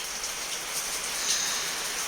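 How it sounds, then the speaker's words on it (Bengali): Heavy rain pours down outdoors in a steady, dense hiss that holds even throughout, with no voices over it. "প্রচণ্ড বৃষ্টি হচ্ছে সকাল থেকেই।"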